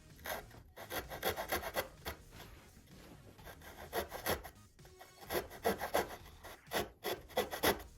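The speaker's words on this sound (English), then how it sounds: "So I'm going to start with using the razor saw." A razor saw cuts through a plastic model aircraft cowl for a Top Flite .60 size P-40E Warhawk, giving rapid rhythmic rasping strokes, close and steady, with a brief pause midway.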